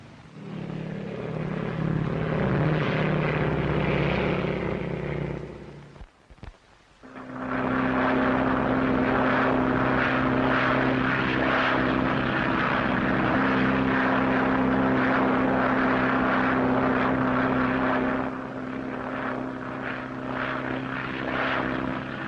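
A propeller airplane from a 1937 film flies past in a loud, steady droning roar with a strong engine hum. The roar briefly cuts out near the middle, then returns at full strength and holds to the end.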